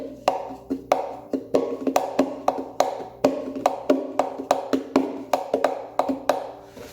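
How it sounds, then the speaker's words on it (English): An entry-level Kala soprano ukulele body is tapped as a drum with bright, high-pitched knocks in a quick, steady groove of hand strikes, close and fairly quiet with no voices. "just playing your ukulele body as a drum."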